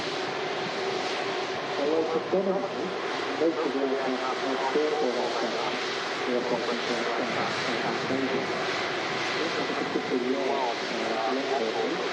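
An arriving EasyJet airliner from Paris at Manchester Airport gives a steady, broad engine roar that stays fairly loud and even throughout, with a voice talking over it.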